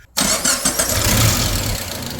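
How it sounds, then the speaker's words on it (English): An old Suzuki car engine cranks and catches, roaring to life loudly up close, then settles into a rough, rumbling idle. "The Suzuki's supposed to run. We're fixing to fire it up."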